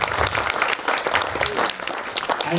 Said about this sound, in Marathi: एकदा जोरदार टाळ्या सरांसाठी.